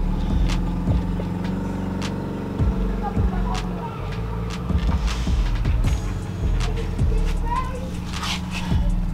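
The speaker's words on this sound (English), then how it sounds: "They still riding the four-wheeler." A four-wheeler engine runs steadily nearby with a low throbbing drone, while children play and call out in the background and scattered clanks and taps sound over it.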